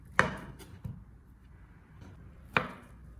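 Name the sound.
chopping sausages into small pieces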